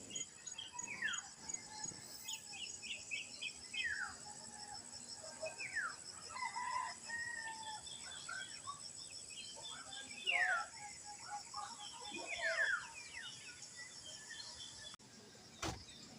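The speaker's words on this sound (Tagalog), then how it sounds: "ang marinig mo lang mga huni ng ibon at iba't ibang uri ng insekto" Outdoors at a quiet rural camp, many birds chirp and call in scattered bursts while a rooster crows and chickens cluck, all fairly faint and distant over a steady insect hiss.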